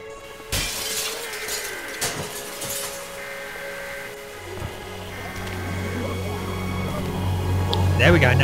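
A brick smashes glass sharply near the start in The Walking Dead video game, followed by a few more crashes and clinks, then a rising engine-like hum with game effects underneath.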